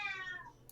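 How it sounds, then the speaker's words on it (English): Indoor house cat letting out a single drawn-out meow that falls in pitch and fades, faint and in the background. "I'm so sorry about my cat screaming in the background."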